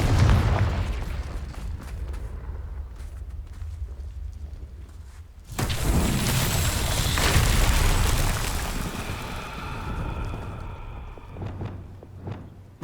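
A Confringo spell explodes in Hogwarts Legacy with a sudden, loud, broad blast. It follows a quieter stretch of game ambience and rumbles on for several seconds before fading.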